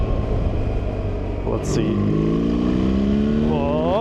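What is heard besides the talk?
BMW R1300GS motorcycle revving, DNA air filter, dynamic mode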